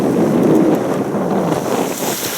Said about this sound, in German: Wir haben heute Bora, zum Glück nicht allzu stark.